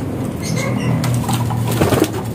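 Pigeons cooing in a loft in Bulacan, a soft low murmur of coos set in a steady, fairly loud background, with someone talking over it and a few rustles.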